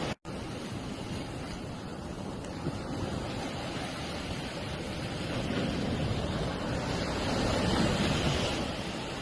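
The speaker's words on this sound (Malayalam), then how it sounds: "ഞാനിപ്പോൾ ഉള്ളത് പുതുവൈപ്പിൻ ബീച്ചിലാണ്. അതായത് കടലിന്റെ കരയിലാണ് ഉള്ളത്." Sea surf rolls and washes continuously onto Puthuvype beach, a steady roar of breaking waves mixed with wind buffeting the microphone, growing slightly louder toward the end with no voices.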